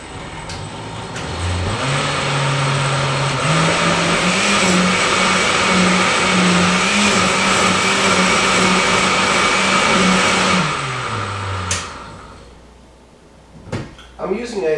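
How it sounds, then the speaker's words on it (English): An old-fashioned Oster Imperial 8 blender runs loudly for about ten seconds with a steady motor whine that steps up in pitch, then winds down, followed by a few clunks. "I'm using an osterizer."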